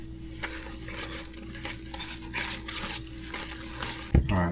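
Black cocoa banana bread batter is stirred in a bowl, the utensil scraping and clinking steadily against the sides close up, with a louder clatter near the end.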